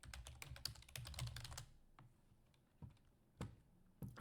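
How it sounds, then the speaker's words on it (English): Quick bursts of typing on a computer keyboard, dense clatter for the first second and a half, then a few isolated keystrokes spaced apart in a quiet room, close to the microphone. "you're probably going to hear a little bit of typing today"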